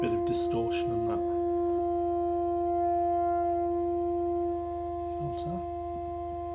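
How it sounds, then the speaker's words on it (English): A modular synthesizer drones steady tones through a distorted filter, with short bursts of gritty noise near the start and again toward the end, fairly loud and without speech. "Here's a bit of distortion on that"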